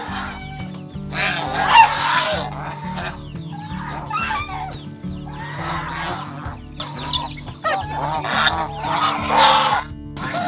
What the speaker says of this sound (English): He has geese, he has ducks, and even rabbits.